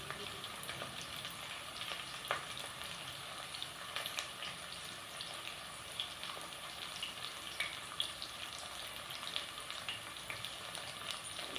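Onions sauté in a pan for vegetable pulao, a steady close sizzle and crackle with occasional stirring scrapes, fairly quiet.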